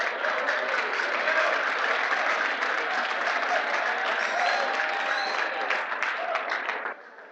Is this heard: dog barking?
no